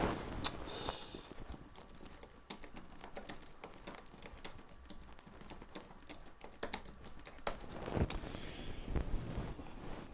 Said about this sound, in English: You know when I'm typing